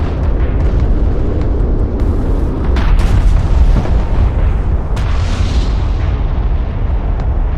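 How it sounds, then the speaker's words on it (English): Cruise missile launch and detonation in the real-time strategy game Homeworld: Deserts of Kharak, a sustained loud rumbling roar with heavy booming bursts throughout, thick low-end blasts layered over continuous battle noise. "Cruise missile launch ready. Target set. Launch."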